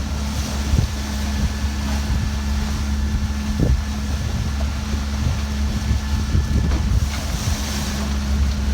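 Wind buffets a sailboat heading upwind off the Dodecanese islands near Alimia, with short choppy waves slapping the hull and steady microphone wind roar throughout, no voices.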